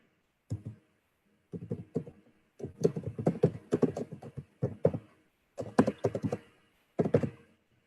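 Bursts of keystrokes on a computer keyboard arrive in quick clusters separated by short pauses, crisp and close, with nothing else audible.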